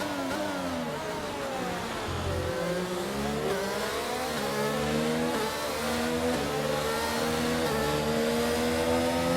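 Formula 1 car engines at the Baku circuit in a racing video game wail continuously at high pitch, rising and falling through repeated gear changes and overlapping as several cars run close together.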